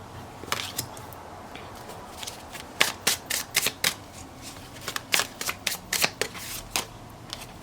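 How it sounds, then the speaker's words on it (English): Tarot cards being shuffled by hand, a quick burst of riffling near the start and then a run of crisp flutters and soft slaps from about the three-second mark onward, close and fairly quiet with no talk. "And then I shuffled it back in."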